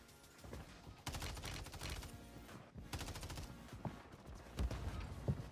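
Rapid bursts of automatic gunfire in the Call of Duty Warzone video game, dense rattling volleys coming in several stretches with short pauses between, fairly close and loud, plus a few isolated sharper shots.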